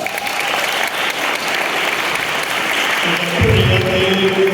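Audience applause at a welcome address during the Fast Foot Jam 2025 event, a dense, steady patter of many hands clapping at close range, with a voice starting to speak over it near the end.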